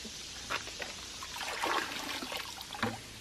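Water splashes and trickles as fine sediment is rinsed out of a filter bucket, irregular close splashy bursts and dribbles at moderate volume with no talking.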